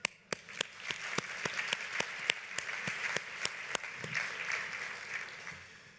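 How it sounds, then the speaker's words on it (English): Audience applause at a community investment award ceremony, with sharp individual claps standing out early before settling into a steady, moderately distant ovation that fades toward the end. "I want to give her a round of applause."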